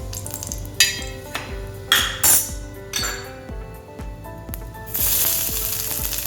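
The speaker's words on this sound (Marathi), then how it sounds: "मग त्याच तव्यावर आपण आता कांदा आणि खोबरा भाजून घेतलो सर थोडासा तेल परत घालून घ्या" Onion and coconut roasting in oil on a pan for a Goan Malvani fish curry, with a steady sizzle broken by scraping and clinks of a utensil against the pan. A louder, brighter frying burst comes near the end.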